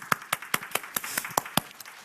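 Rhythmic clapping in unison from a church congregation thanking its volunteers, about ten evenly spaced sharp claps, moderately quiet and with no talk over them.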